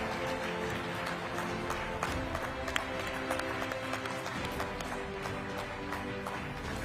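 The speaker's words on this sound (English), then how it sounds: "a round of applause for Shukla Devnath" An audience at the Amazing Indians Awards ceremony applauds award winner Shukla Devnath, a steady, even wash of many hands clapping that sounds fairly distant and continues without a break.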